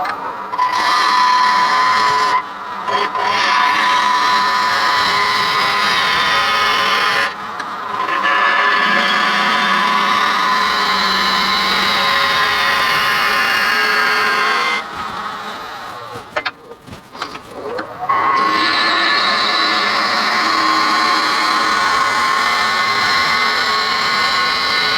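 A wood lathe turns a wooden bowl while a bowl gouge rounds its outside corners, a loud, steady whirring cut that runs nearly continuously, dropping out briefly several times as the tool lifts away.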